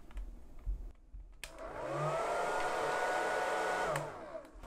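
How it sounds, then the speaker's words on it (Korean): A hair dryer plugged into a smart wall outlet starts up with a click and blows with a steady whooshing hum, its motor tone wavering slightly, then switches off. "드라이기를 연결했습니다."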